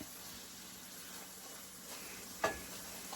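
Onions frying in a pan for a kale and wild rice casserole give a faint, steady sizzle, with a short clatter near the end.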